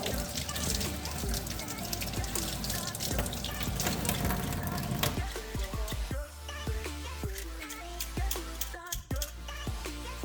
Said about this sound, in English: what I like to do is I run hot water through it